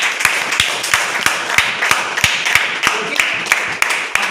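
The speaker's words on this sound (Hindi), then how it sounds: "इन लोग के लिए जोरदार ताली बजाइए।" An audience claps loudly for guests at an event, the claps sharp and separated, landing in a fairly steady rhythm over a constant hum of crowd noise.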